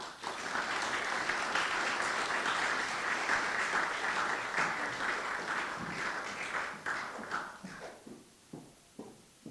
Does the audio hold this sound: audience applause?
yes